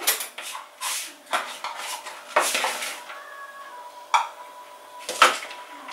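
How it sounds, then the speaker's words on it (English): A spoon scooping cooked white rice, heard as a series of close clinks and scrapes against a dish and container at an uneven pace, with a couple of brief ringing metallic taps. "I get a spoon up."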